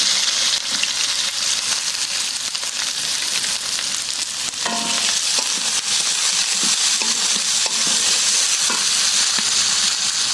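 Chopped onion fries in hot oil with cardamom, cinnamon and a bay leaf, giving a loud, steady, close sizzle throughout with faint scraping stirs now and then.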